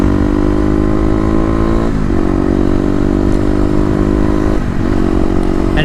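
Kawasaki KLX250 motorcycle with Stage 1 mods accelerating hard on a 0-60 mph run, engine note loud and close, rising steadily then dropping twice at quick gear shifts near 10,000 RPM before climbing again.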